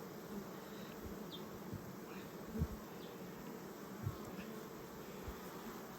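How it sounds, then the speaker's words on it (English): A dense, low drone of many honey bees buzzing together in a hive, steady and close, with occasional soft bumps. "these are all nurse bees, so there is lots in there"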